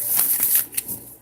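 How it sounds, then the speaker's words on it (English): A brief, close riffle of oracle reading cards being shuffled, a quick fluttering burst of soft snaps that fades out after about a second. "I feel led to give another shuffle, so I'm going to do that."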